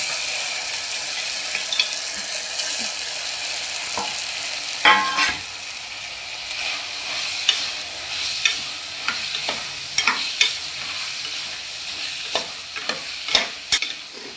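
Crab frying in a pan with curry leaves and salt, stirred repeatedly: a steady sizzle runs throughout, broken by sharp scraping and clinking spoon strokes, close by with no talking.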